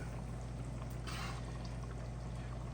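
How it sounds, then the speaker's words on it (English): Hot lecsó, a simmered pepper and tomato stew, pours through a funnel into canning jars in a soft, steady stream over a constant low hum, with a brief brighter splash near the middle. "I will take my funnel and go ahead and begin to fill your jars while they're still hot"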